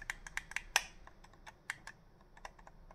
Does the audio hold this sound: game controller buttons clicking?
yes